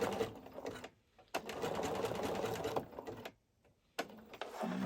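A sewing machine fitted with a free motion foot runs zigzag stitching in steady bursts of rapid mechanical chatter, pausing briefly twice in between. The sound is close and moderately loud, and no one speaks.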